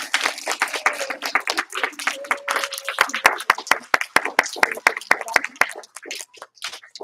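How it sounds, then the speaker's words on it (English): A group applauds a martial arts student in a class setting, a dense run of sharp hand claps that thins into scattered individual claps toward the end, with brief voices underneath. "Give her one last round of applause."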